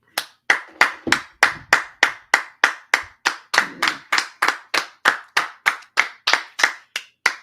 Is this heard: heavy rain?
no